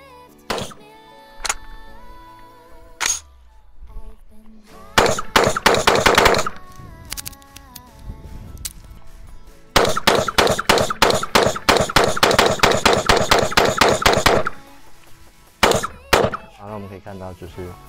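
Live rifle fire while testing a SIG Romeo 5 red dot sight with a binary trigger: scattered single shots, then long rapid strings of sharp, loud reports in bursts, with pauses between volleys.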